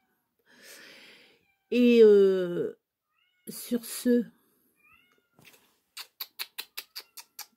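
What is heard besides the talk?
cat meowing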